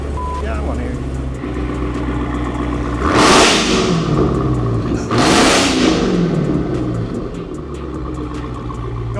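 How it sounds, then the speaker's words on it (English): A car engine heard from outside the vehicle idles with a deep rumble, then revs hard twice in quick succession, each surge rising sharply and falling back to idle. Voices talk faintly over it. "I just wanted to get out of the car and see if it sounded as good outside the car as it did inside the car."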